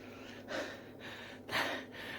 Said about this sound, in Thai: หายใจไม่คล่องเลย